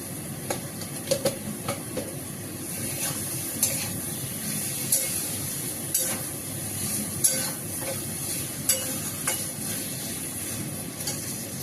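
Potatoes sautéed and stirred in a pan for a home-cooked dish: a steady, close sizzle with intermittent scraping and clinking of the utensil against the pan, continuous and without talk.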